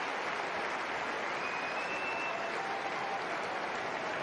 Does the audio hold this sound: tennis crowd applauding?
yes